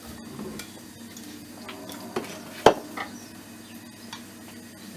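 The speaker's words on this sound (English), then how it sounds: "we need to sweat and stir fry for a few minutes our onions, our broccoli" Onions and broccoli stir frying in a pan, a faint low sizzle under soft scraping and a few light clinks of a utensil against the pan.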